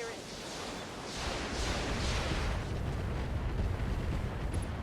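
Dual MRM missile salvos fire in the RogueTech BattleTech video game as a rumbling series of whooshing launches and booming impacts that build into a heavy, sustained low roar.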